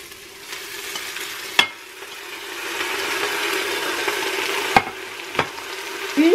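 Spinach tumbles onto onions frying in a pan, setting off a steady sizzle with a few sharp clacks and scrapes of a utensil against the pan.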